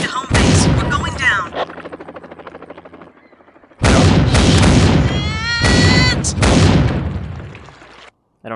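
Loud bursts of video game gunfire aimed at a helicopter and a booming explosion crash in close, separated by a quieter rumbling gap, with a helicopter-like whine in the mix, from Dead Epidemic.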